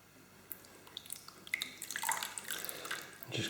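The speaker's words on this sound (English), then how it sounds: "we're gently going to pour this in and whisk it as we go" Hot liquid is poured into an egg mixture for custard while it is whisked, with quiet trickling that builds into splashy, dripping liquid sounds and light clicks of the whisk.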